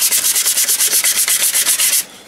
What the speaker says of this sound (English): Take your sandpaper and wherever you're going to put your ground or anything like that, you want to sand it down